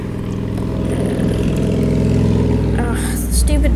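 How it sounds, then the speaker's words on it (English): Motorbikes revving as they pass by outside, a steady engine drone that swells and rises in pitch toward the end, with voices talking over it. "Whenever I'm recording, those bikes go by."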